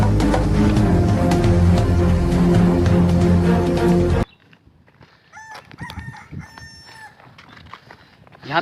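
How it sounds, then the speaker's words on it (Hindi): A loud, dense burst of sound cuts off abruptly, then a wild junglefowl rooster crows in the quieter outdoor air that follows, its call drawn out and somewhat distant. "यहाँ पे मुझे एक मुर्गे की आवाज़ सुनाई दी है।"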